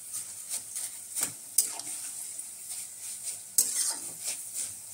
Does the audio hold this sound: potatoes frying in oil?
yes